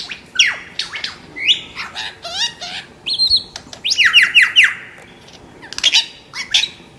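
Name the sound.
superb lyrebird song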